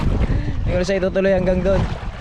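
Strong wind at a lure-fishing spot buffets the microphone with a low, rushing roar while a voice speaks briefly over it.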